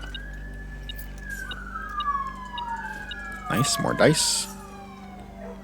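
A police siren wails outside in the puzzle game Blue Prince, its rising and falling pitch sweeping along steadily at moderate distance beneath a droning background, while a person speaks briefly and a short burst of rattling clatter interrupts midway.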